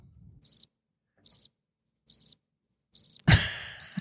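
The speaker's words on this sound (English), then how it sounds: "Maybe you should do some crickets." Crickets chirp in four or five evenly spaced bursts of rapid high trills, clear and alone, with a brief soft sigh-like sound near the end.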